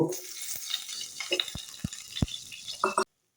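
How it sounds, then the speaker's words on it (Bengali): Potatoes frying in hot oil in a kadai give a soft, steady sizzle, broken by a few sharp clinks and knocks of stirring, quiet and close, lasting about three seconds. "কড়ায় তেল বসে দিয়েছি, তেলটা গরম হয়ে গেছে, এবার আমি আলুটাকে ভেজে নেব।"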